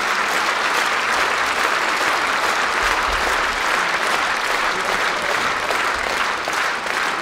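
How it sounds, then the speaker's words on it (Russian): Sustained, even applause from a concert audience at an anniversary performance of the Loktev song and dance ensemble, dense and loud throughout without breaks or voices. "аплодисменты"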